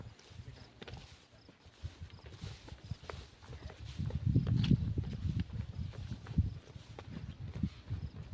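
Hooves of Khillari bulls clop unevenly on hard ground, several animals walking nearby at a slow pace, quiet with some rustling.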